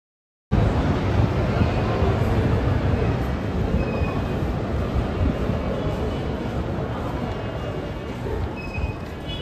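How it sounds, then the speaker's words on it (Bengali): A train pulls into a station, its loud, steady rumble of wheels and carriages filling the scene from start to finish with faint rail squeals and clatter, no voices heard. "এই দেখো বন্ধুরা ট্রেন আসতেছে"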